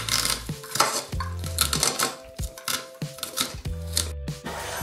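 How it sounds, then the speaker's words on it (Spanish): Corn kernels are cut off the cob inside a small pot, giving a run of close, irregular knife scrapes, chops and metallic clinks, brief and fairly quiet with no talking. "vamos a agarrar el maíz y vamos a empezar a remover los dientes de maíz"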